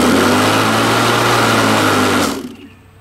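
An electric motor fitted to a converted gas lawnmower whines loudly at a steady pitch, then winds down and coasts to a stop near the end, close by with no voices.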